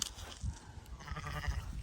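Sheep bleat at close range on a farm visit in southeastern Estonia, several overlapping cries rising and falling over about two seconds with a steady farmyard background and no talk.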